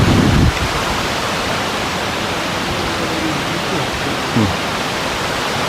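Water rushes out of the open Neyyar dam in Thiruvananthapuram, a loud, steady wash of noise heard close, with a brief thump at the start and a few faint voices beneath it.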